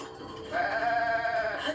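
Goats in Zelda Breath of the Wild let out a single drawn-out bleat, nasal and wavering, that rises and holds for about a second over quiet game ambience.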